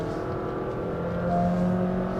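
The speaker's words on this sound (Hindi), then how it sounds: "तब ये थोड़ा सा ज्यादा शोर कर रही है, तब आपके केबिन के अंदर अच्छी खासी इंजन की साउंड आएगी" A Honda City e:HEV hybrid sedan's engine pulls hard under acceleration, a steady droning hum heard from inside the cabin with tones that rise and grow slightly louder toward the end.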